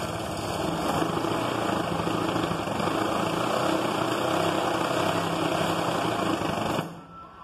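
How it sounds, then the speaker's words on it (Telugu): A sewing machine runs steadily along one side of baby frock fabric, a loud continuous motor whir with a constant high hum, close by, cutting off abruptly just before the end. "ఇలా ఒక సైడ్ మొత్తం కుట్టేస్తున్నాను."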